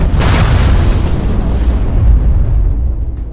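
A loud, heavy blast from a tank struck by a Ukrainian drone, a sharp crack followed by a deep rolling rumble that slowly fades, with no voices.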